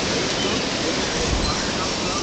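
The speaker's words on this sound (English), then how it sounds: "Comes another gust." A strong gust of wind rushes through trees during a wind storm in Austin, Texas, a loud, dense, steady roar of air and foliage with no breaks.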